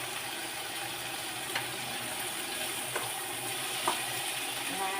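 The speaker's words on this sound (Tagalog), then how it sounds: "iginisa ko muna yung bawang, sibuyas" Garlic and onion sautéing in a pan, a steady soft sizzle throughout with a few faint clicks and stirring scrapes, no talk.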